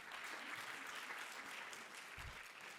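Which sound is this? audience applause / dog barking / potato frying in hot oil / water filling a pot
audience applause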